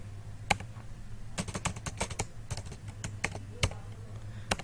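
Someone typing PHP code on a computer keyboard makes a close, irregular run of crisp clicks and taps. Bursts and pauses stand alone over a low steady hum.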